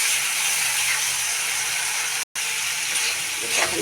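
Dried snakehead fish and potatoes fry together in a dry pan without water, giving a dense continuous sizzle with a momentary cut-out midway and faint scraping toward the end.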